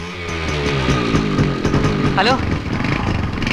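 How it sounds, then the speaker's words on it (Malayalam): A motorbike engine runs close by with a rising and falling revving drone, while a voice speaks over it and a brief whistling tone sweeps upward partway through. "ബൈക്ക്."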